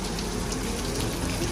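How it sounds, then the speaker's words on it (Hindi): Steady rain falls outdoors on a holiday, a dense continuous hiss of drops pattering on surfaces, even and unbroken throughout with no voices. "बरसात शुरू हो गई है, ये देखें।"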